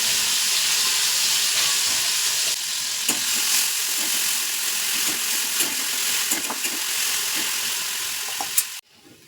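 Steady, loud sizzling of garlic and coriander frying in hot oil in a small wok, with occasional pops and crackles, continuing throughout before cutting off abruptly at the end.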